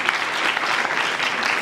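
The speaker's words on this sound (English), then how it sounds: "Give her a big round of applause." A panel audience gives a loud, dense burst of applause, steady clapping filling the room without pause.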